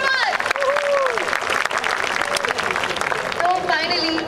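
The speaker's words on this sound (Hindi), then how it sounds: "एक बार जोरदार ताली" Audience applause at a women achievers awards ceremony, a dense wash of clapping filling the hall, with a voice and bits of music over it.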